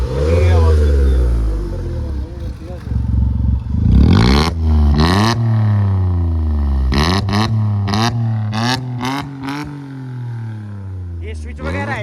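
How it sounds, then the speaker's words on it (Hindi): A modified Volkswagen Polo fitted with a loud Valvetronic exhaust revs hard, with deep rising and falling engine sweeps and sharp blips, loud and close, with people talking over it. "एक बार एग्जॉस्ट की साउंड सुना देते हैं भाई, एक बार सुना दो आवाज"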